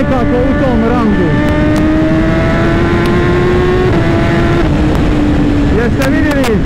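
A 2018 BMW S1000RR motorcycle engine screams at full throttle, with a strong rising and falling rev note and gear changes, loud and close against heavy wind rush.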